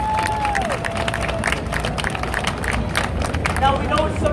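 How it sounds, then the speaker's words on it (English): A crowd at a New York City street performance in Midtown applauds and cheers, with continuous mixed clapping and shouting close by, plus a whistle, over ambient street noise. "Ladies and gentlemen, give yourselves a round of applause."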